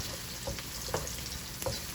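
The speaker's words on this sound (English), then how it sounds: "tip a little bit of salt on my onion and scallion frying up here" Onion and scallion sizzle and crackle steadily in a hot pan, with a few soft stirring clicks and pops.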